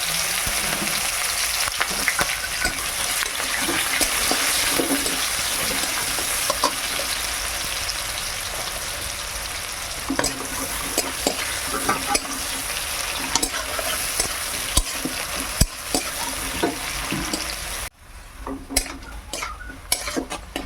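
Chopped onion with bay leaf, dried chilli, green cardamom, cloves, cinnamon and peppercorns sizzles steadily in hot oil in a pan for jackfruit-prawn curry, a dense continuous hiss with occasional utensil clinks, briefly dropping away near the end.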